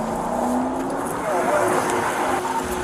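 A stolen CSP police patrol car speeds along a highway, its engine droning and rising in pitch under the continuous narration of a talking voice.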